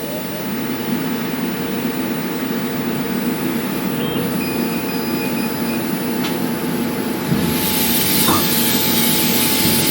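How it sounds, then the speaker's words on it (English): High-pressure air assist blows through a 100W Thunder Laser cutter working on 10mm plywood, a loud, steady rushing hiss that fills the space without pause and swells slightly toward the end. "So you can hear the high pressure airflow now going as well."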